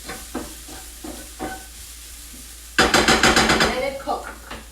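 Onions being stirred in a hot pan for a quick curry, with soft intermittent scrapes followed by a sudden loud burst of sizzling and frying that pulses as the spoon moves.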